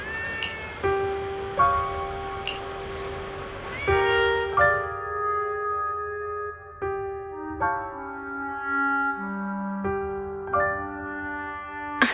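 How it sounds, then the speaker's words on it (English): A cat meows in the video game Zenless Zone Zero, mixed with a sustained musical backdrop, with no talk, with several short tonal cries spread across the stretch at moderate loudness. "there's a cat over there"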